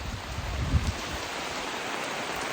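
Rain falls outdoors on a farm as a steady, even hiss, with a brief low thump near the start and no voices.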